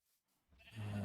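Sheep bleating on a video game sheep farm: a short, rising bleat swells up loud and close near the end after a quiet start.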